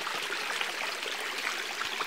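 A small trickling stream on the Pacific Crest Trail near Kennedy Meadows, a close, steady rush and babble of running water with no voices.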